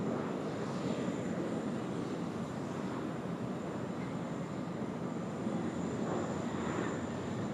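QJet jet airliner, flight 1503, arriving on runway 16 right at Sydney Airport, a steady broad engine roar heard from a distance, holding level throughout with no talk.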